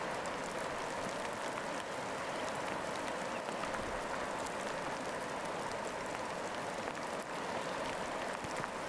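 Steady rain falling in a forest by a lake, a dense even hiss that holds at the same level throughout with no breaks, voices or other distinct sounds.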